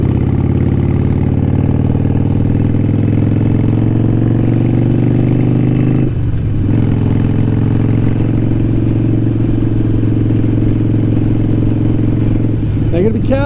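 A Harley-Davidson 883 Iron motorcycle cruises along with a steady, loud low engine drone and road rumble throughout, briefly dipping in tone around a gear change before resuming its even throb.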